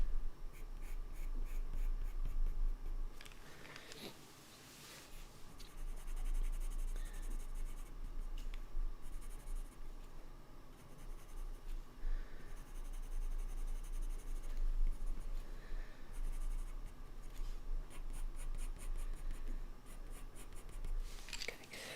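Coloured pencil scratches steadily on paper while orange areas of a hare drawing are built up, a continuous close, soft scratching of short strokes with brief pauses and a few light knocks.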